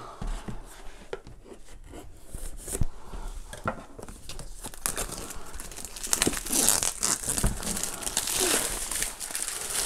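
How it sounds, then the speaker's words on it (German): A Hohem iSteady smartphone gimbal box is unpacked up close, with continuous crinkling plastic and cardboard packaging, rustling, tearing and knife cutting, and small handling clicks throughout. "wir müssen jetzt erstmal auspacken. Dafür brauchen wir erstmal das Messer"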